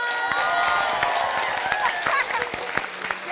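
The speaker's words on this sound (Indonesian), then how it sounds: "Tepuk tangan dulu dong buat semuanya." Studio audience applause and cheering at an Indonesian comedy show, a dense burst of clapping with scattered shouts and a host's voice on top, loud and close throughout.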